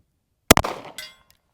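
A single sharp Daniel Defense H9 pistol shot fired from the hip at a 100-yard target, loud and close, followed by a short ringing decay and a faint distant impact clang about half a second later.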